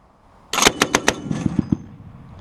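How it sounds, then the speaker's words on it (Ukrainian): A heavy-calibre machine gun fires on a military training range in one short burst of about seven sharp, loud, evenly spaced shots, the later reports duller and echoing. "часом навіть стати за крупнокаліберний кулемет"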